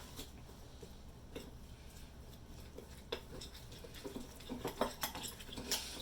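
Quiet scraping and light clinks of a utensil against a bowl while paprika is mixed into deviled egg filling, faint irregular taps over a low background hum.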